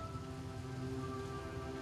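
Steady rain falls continuously at an animal sanctuary in Negros Oriental, a dense, even patter on surfaces with no pauses and no talking.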